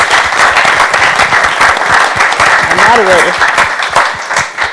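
An audience at a Civil Rights Act of 1964 commemoration event claps steadily for the panelists, a dense sustained applause with a voice speaking briefly over it.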